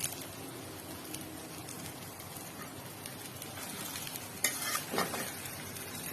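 Noodles with tomato sauce and noodle masala stirred in a pan, a steady soft frying hiss with rhythmic scraping stirs and a louder clatter of the utensil toward the end.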